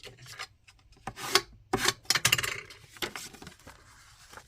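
Folded paper card being burnished with a tool, a few close, short rubbing and scraping strokes in quick bursts, separated by brief pauses and quiet handling noise.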